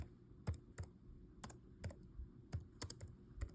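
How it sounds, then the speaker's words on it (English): Someone types on a computer keyboard, producing a quiet, irregular run of about a dozen sharp clicks heard close by, with no talking. "Then I will go into another tab and type in stock news, VNet stock news."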